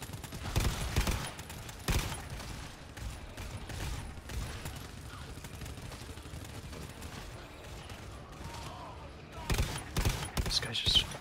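Bursts of gunfire in the shooter game GTFO crackle through a dense mix of game noise, with heavier volleys at the start and end, while players talk over it.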